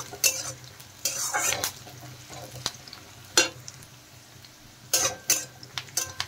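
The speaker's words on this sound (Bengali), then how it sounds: "পেঁয়াজগুলো একটু ভালো করে ভেজে নেব" Onions frying in a pan for a Bengali bata fish curry with mustard paste, stirred in short bursts of scraping and clattering utensil against metal over a soft sizzle.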